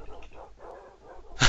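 Tamed wolves in Minecraft bark and whimper in quick, yelping bursts, with a louder bark right at the end, close and with no other sound.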